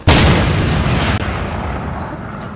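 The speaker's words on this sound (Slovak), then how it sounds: "ukážem vám, koľko to strieľa do diaľky" A weapon in Fortnite fires across a long distance, a loud sharp blast with a booming tail that decays over about two seconds, heard alone.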